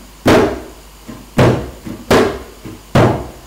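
Sharp kendang hand-drum slaps (plak strokes) repeat in a steady pattern, four strong strokes with softer taps between them, close and dry with no talking.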